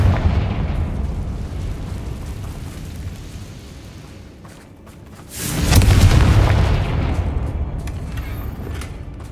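A Confringo blasting curse explodes in Hogwarts Legacy inside an abandoned mine. A loud, booming blast erupts over a rumbling ambient bed, then fades into a lingering, echoing rumble.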